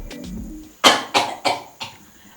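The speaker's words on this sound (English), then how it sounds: "I am coughing from all the fumes" A person coughs four times in a sharp, evenly spaced series, irritated by hair dye fumes, loud and close after a brief stretch of quieter background sound.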